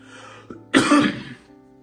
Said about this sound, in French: pardonnez-moi pour ma toux, vous connaissez déjà, je tousse beaucoup